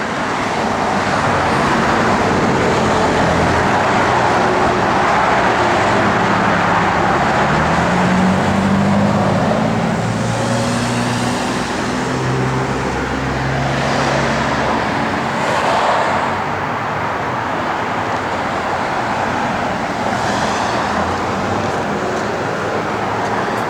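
A 1969 Plymouth Road Runner cruises down the road, its engine and tire roar forming a loud, continuous drone with a low engine note that shifts slightly in pitch as it drives, heard from inside or close by.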